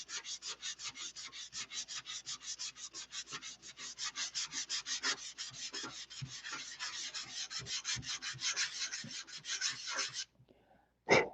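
Steady rhythmic sanding of filler on an aircraft canopy, close and raspy, with quick back-and-forth strokes running continuously before stopping abruptly, then a brief knock.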